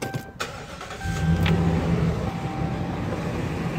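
Dodge Ram pickup with a new fan clutch: a starter burst, then the engine catches and settles into a steady idle with the fan spinning hard, a broad even rumble close by.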